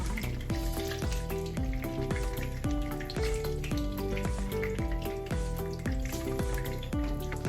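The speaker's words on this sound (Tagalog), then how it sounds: "Now we're going to fry our banana." Banana slices fry in a pan for pork estofado, a continuous sizzle under a bright repeating musical backing.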